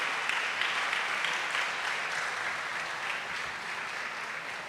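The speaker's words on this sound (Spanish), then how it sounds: "Vamos a darle un aplauso al Señor por la vida de ellos." A church congregation applauds the Lord during a Sunday service, a sustained wash of many hands clapping evenly, fairly distant and soft, with no talking over it.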